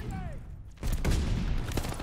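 Gunfire in the video game Call of Duty Vanguard: a brief whistle, then a dense burst of rapid shots and explosions from about the midpoint to the end, loud and continuous.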